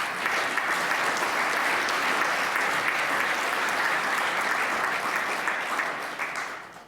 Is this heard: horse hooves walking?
no